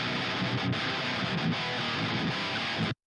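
Dense, distorted electric guitar plays continuously at full volume, then cuts off abruptly near the end.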